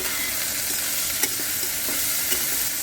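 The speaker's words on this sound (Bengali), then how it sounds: "এই যে পেঁয়াজটা দিয়ে দিয়েছি আমি, ওর মধ্যে একটু নুন দিয়ে ভালো করে এটাকে ভেজে নেব" Sliced onions sprinkled with salt sizzle steadily in hot oil in a pan, with soft scraping as they are stirred, close and continuous with no talking.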